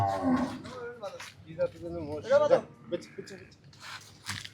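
Livestock lows and grunts at a farm visit where a Jafarabadi buffalo is shown, heard as short, close, wavering calls mixed with voices talking nearby.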